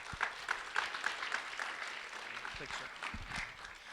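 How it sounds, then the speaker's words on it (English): An audience claps steadily at a public event to welcome a regional director for Senator Marco Rubio, a dense broadband patter that holds for several seconds while a voice briefly sounds near the end. "Round of applause for Mr. Kellum, please."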